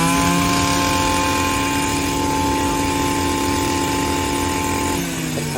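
A Stihl FS 230 shoulder-mounted two-stroke brush cutter runs loud and close in a field, holding a steady high engine whine before easing off slightly near the end.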